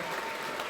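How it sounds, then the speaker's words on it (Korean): A brief burst of steady audience applause at a book concert, dense and even, many hands clapping together at moderate distance. "진짜 박수 한번 해야 돼요"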